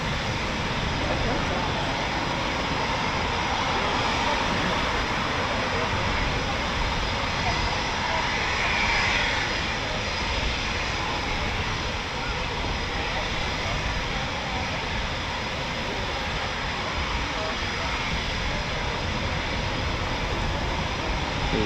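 An RAF Eurofighter Typhoon FGR4, serial ZJ913 in 257 Squadron D-Day display livery, roars overhead in a steady, loud, broadband jet rumble that barely changes through the whole stretch.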